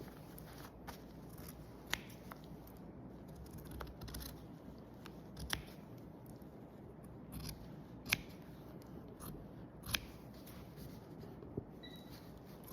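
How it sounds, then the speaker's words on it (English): Sharp scissors snip through fabric while cutting out a basic waistcoat pattern, giving a series of crisp, close clicks at an irregular pace over a soft rustling background. "I'll use my proper scissors."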